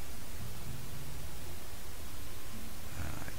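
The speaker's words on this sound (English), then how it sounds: "You get a little radio static." Radio static from the video game Spore fills the scene as a steady, even hiss of noise, continuous and moderately loud throughout, with a faint low rumble underneath and no speech.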